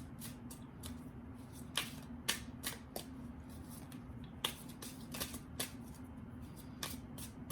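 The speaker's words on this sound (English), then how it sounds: "Shuffle this the good old-fashioned way. One more shuffle." Playing cards being shuffled by hand, with a series of crisp riffling bursts at irregular intervals over a low steady hum in the room.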